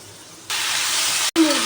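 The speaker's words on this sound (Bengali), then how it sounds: "আলু ভাজা হচ্ছে" Four pieces of potato fry in hot oil as a home cook prepares a meal, a steady broadband hiss that jumps up suddenly, pauses for an instant, then resumes with a faint clink or squeak over it.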